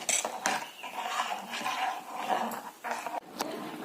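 A spoon stirs a flour batter in a pot over a high flame while making dried small-shrimp (jawla) vattal curry. It gives steady scraping and clinking against the metal, close and continuous with a few sharper knocks.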